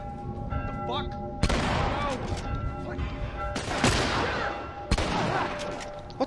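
Three loud shotgun blasts boom out a second or two apart in The Last of Us, each with a reverberant tail over a busy background of game ambience.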